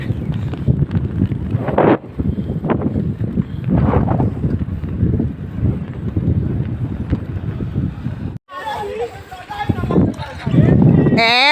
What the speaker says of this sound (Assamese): ইমানেই বতাহ মাৰি আছে